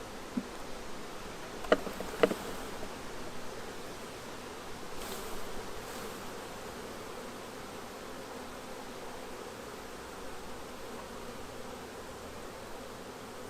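Honeybees hum at an open hive, a faint, steady drone throughout with a couple of small ticks and knocks early on.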